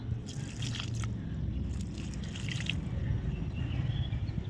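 Water is poured onto a few potted hibiscus plants, making a close, steady wet splashing and soaking sound with soft drips.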